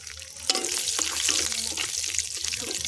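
Dried red chilies, panch phoron and a bay leaf frying in hot oil, a close, continuous crackling sizzle with occasional sharper pops and stirring scrapes.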